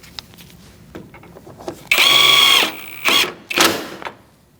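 A power drill whirs in short bursts, driving bolts into the corners of a Mercedes-Benz C300 bumper: one longer high-pitched run, then two brief spins, close and loud with light handling clatter between.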